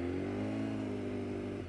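A BMW superbike engine at full throttle on a racetrack, a loud, steady high-pitched roar that holds its pitch for nearly two seconds with no talking.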